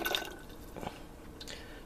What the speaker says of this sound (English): you pour the grease into an old mayonnaise jar, which I've cleaned out